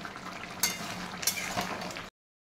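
A potato and taro coconut curry is stirred in a pan over a high gas flame, with a steady sizzle and a couple of sharp utensil scrapes against the pan, close and fairly quiet, no voices.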